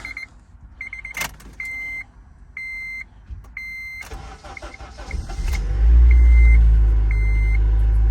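A car's warning chime beeps repeatedly before the engine cranks and catches, then settles into a loud, steady low rumble as it idles.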